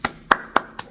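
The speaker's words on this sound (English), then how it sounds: "We gotta clap it up for you." Four sharp, separate hand claps in a slow, even rhythm, close and fairly loud, with quiet room tone between them.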